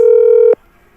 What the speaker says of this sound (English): It's ringing. You can hear it.